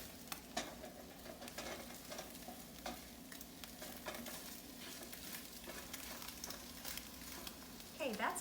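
An egg fries in a pan for a breakfast dish, giving a steady, close crackle and sizzle throughout, with brief scraping and clatter. A short, louder burst comes at the end.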